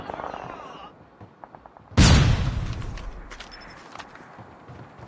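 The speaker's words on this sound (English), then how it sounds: "Flashbang!" A flashbang grenade detonates in Call of Duty multiplayer on the Firing Range map, a single loud, close burst that decays into a ringing tone after scattered quieter shots and clatter.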